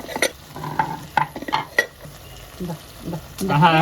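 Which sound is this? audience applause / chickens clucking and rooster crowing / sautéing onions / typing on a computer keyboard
sautéing onions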